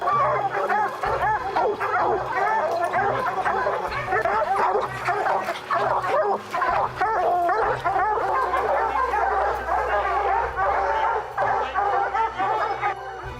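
A pack of hunting dogs bark and yip continuously on a wild boar hunt, loud, dense overlapping barks from several dogs close by, with occasional whimpers and possible voices underneath.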